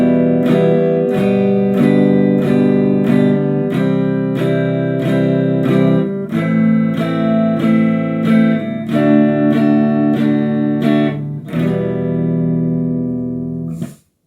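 Guitar chords changed smoothly in a steady strummed rhythm, loud and close with no talking, each chord ringing into the next before a final chord is cut short.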